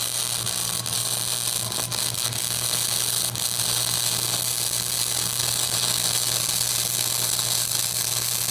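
Flux-core MIG bead laid with a Lincoln-style 125 Weld Pak wire welder, a steady close crackling hiss running without a break, with a low electrical hum beneath and no talking.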